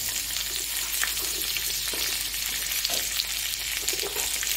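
Fish fries in a pan together with onion and spices, giving a steady, close sizzling hiss with a few faint stirring clinks and no talking.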